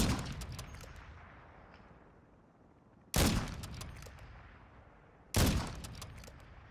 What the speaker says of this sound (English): Shoot them motherfuckers.